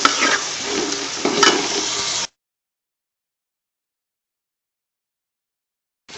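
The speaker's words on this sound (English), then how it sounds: "Let's saute the tomatoes till it's done." Tomatoes sautéing in hot oil with garam masala and turmeric, a close crackling sizzle with a few stirring scrapes for about two seconds, then abrupt silence until a brief return at the end.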